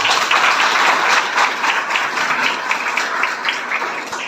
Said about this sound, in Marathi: या पोरीसाठी टाळ्या वाजवा